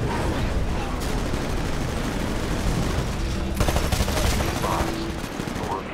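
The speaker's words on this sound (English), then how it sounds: "He is really firing grenades at me." Grenade launcher fire and explosions from an enemy in the Titanfall campaign mission The Colony, a dense, loud, continuous barrage of blasts and gunfire with a brief voice underneath.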